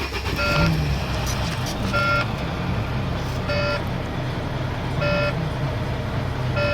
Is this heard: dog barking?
no